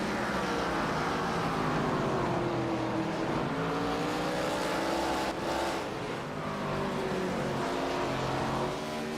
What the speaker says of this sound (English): This is Mustang versus Chevy right here.